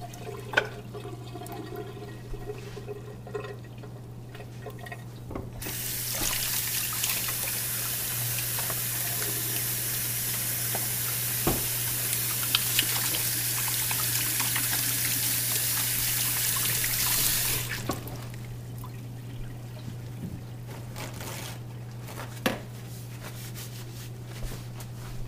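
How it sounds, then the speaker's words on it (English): Tap water runs in a steady hiss for about twelve seconds as a piece of fish is rinsed under it, then the flow shuts off, leaving a low hum and a few small kitchen knocks. "Then you take your other piece of fish, rinse it off like so."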